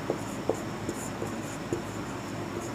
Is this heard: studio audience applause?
no